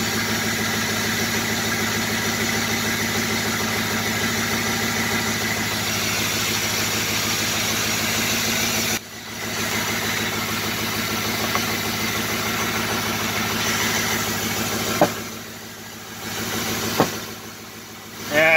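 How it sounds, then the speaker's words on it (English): A 2005 Ford F350 flatbed's 6.0 diesel engine idles after a long-crank cold start, a steady close rumble with a brief dip midway and a few short knocks near the end. "It sounds too good to have a bad engine."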